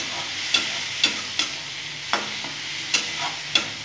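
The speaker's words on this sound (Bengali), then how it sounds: "আমি কিন্তু কাঁকড়াগুলো ভাজার সময় নুন হলুদ দিয়ে নিয়েছিলাম" Crabs fry in a pan with salt and turmeric, a soft sizzle broken by sharp, evenly spaced scrapes of a spatula stirring them, roughly every half second; no voices.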